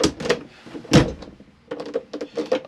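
Caravan door handle on a 2008 Elddis Autoquest 115 turned to lock the door: a sharp thunk near the start, a firm clunk around the first second, then a run of lighter rattling clicks, all close and alone.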